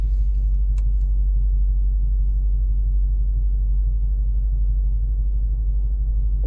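Tuned 2010 Lexus IS F V8 idling steadily after a new ECU tune, a deep continuous low rumble held at a constant level, with a brief faint click near the start.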